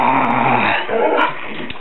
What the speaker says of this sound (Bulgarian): Ето го кучето.